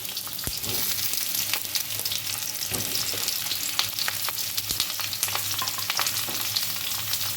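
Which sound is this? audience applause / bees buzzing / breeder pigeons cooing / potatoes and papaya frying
potatoes and papaya frying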